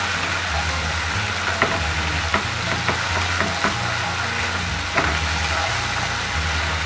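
Stir-frying white soy sauce and green-cap seasoning sauce into a kaprao basil sauce for crispy snakeskin gourami: a steady, close sizzle over a low hum, with a few sharp clinks of the spatula against the pan.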